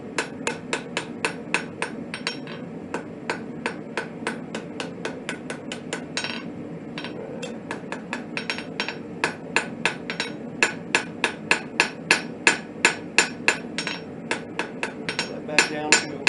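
Blacksmith forging a hook from steel on an anvil: sharp, ringing hammer strikes repeat in a steady, fairly fast rhythm throughout, growing louder and more evenly spaced toward the end, with no talk.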